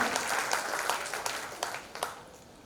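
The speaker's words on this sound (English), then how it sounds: "A big round of applause to sir." An audience at a school award ceremony applauds, a moderate round of clapping with a few louder claps that fades out toward the end.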